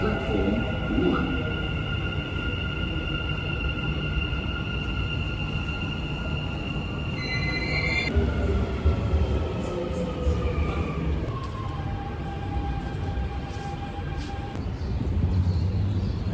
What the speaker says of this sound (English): The train to Center Point will arrive at platform 1.